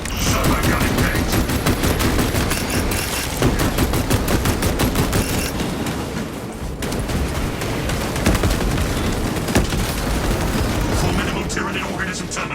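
Servo gun firing in the video game Warhammer 40000: Space Marine 2, a dense, continuous roar of rapid gunfire and blasts running throughout at high volume, with voices partly buried in the din.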